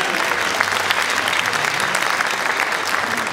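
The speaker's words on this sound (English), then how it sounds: "Give yourselves a round of applause." Audience in a new glass auditorium at a university jazz concert breaks into steady, dense applause, full and close, sustained without a break.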